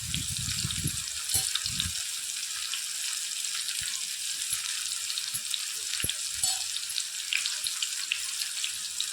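Apple fries crackle and sizzle in hot oil, a steady bright frying hiss that runs throughout at moderate level, with a few low soft knocks near the start.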